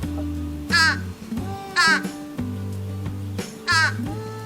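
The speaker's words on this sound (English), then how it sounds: "I'm assuming that these nasal sounding caws signal something different from a regular caw" A crow working at a treat puzzle gives three harsh, nasal-sounding caws at even intervals, fairly close, over a low steady background tone.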